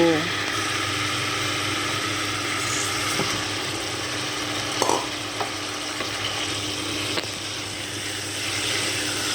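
Fried tengra fish stirred into sizzling masala in a pan gives a steady close sizzle and hiss throughout, with a few faint clinks and scrapes of stirring.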